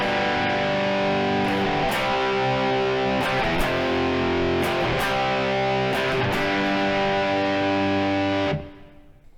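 Distorted electric guitar playing a song's chorus progression of power chords, C5, F5, back to C, then G: strummed chords changing every second or two, loud and alone, ringing out and fading at the end.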